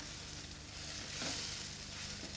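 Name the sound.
stirring sauce with tomato juice and parsley in pan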